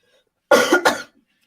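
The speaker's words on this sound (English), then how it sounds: "I hate that cough." A single adult cough in a quiet room during a legal deposition, a sharp two-part burst close to the microphone, followed by silence.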